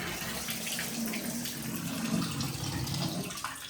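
An older hotel shower head with strong water pressure runs steadily, a dense hissing spray of water that stays constant and close throughout with no voices.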